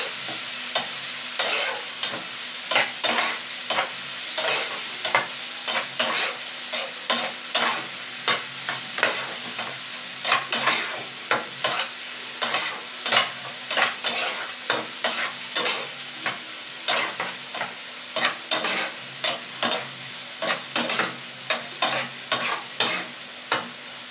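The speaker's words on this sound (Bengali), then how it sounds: "এবার ঝটপট করে মশলাটাকে কষিয়ে নিতে হবে ভালো করে" Spice masala for a Bengali tangra fish curry fries in oil in a pan, a continuous sizzle punctuated by rapid, regular scraping strokes of a spatula stirring through the whole stretch, close and clear with no voices.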